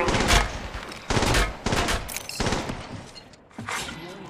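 Gunfire in Apex Legends Mobile gameplay, with several loud bursts of automatic weapon fire in quick succession, close and punchy, separated by brief gaps.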